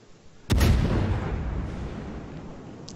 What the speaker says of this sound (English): I just fire a salvo in that direction